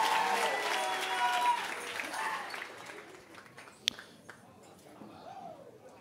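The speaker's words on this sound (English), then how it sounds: "Give the Lord Jesus another great hand clap." Applause from a church congregation swells up loudly at the start and then thins and fades over several seconds, leaving scattered claps and crowd murmur toward the end.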